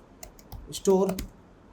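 Typing on a computer keyboard, a quick run of close key clicks with a short spoken sound partway through.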